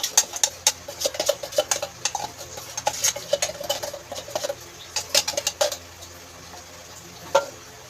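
Jersey condensed milk is mixed into evaporated milk in a bowl, giving close, quick clinks and scrapes of a utensil against the bowl in irregular bursts.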